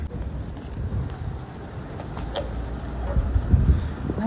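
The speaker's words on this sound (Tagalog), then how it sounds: "Lakas na naman ang hangin." Strong wind buffeting the microphone outdoors, a continuous rumbling roar that grows gustier toward the end.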